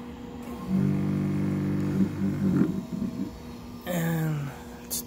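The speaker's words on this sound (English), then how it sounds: "And last, we're going to test the pump." The pump of a LapMaster Wolters Model 12 lapping machine runs with a steady low hum and tonal whine that shifts in pitch, then drops in a falling sweep as it slows, close and even.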